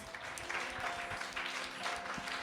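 A church congregation in Moscow applauds, a soft, dense wash of clapping heard from a distance and held at an even level, with faint voices mixed in.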